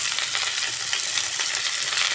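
Ground turmeric, coriander and cumin with slit green chilies frying in oil with pumpkin in a pan, giving a dense, bright, continuous sizzle and crackle, loud and close throughout, with no talking.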